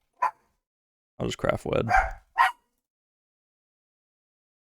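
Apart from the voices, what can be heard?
dog barking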